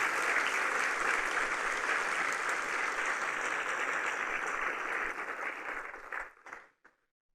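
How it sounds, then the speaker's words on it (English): An audience applauds St Mary's School in Merredin at an Archdiocese primary schools launch event, a dense, sustained round of clapping that thins into scattered final claps and stops. "So a big round of applause to them."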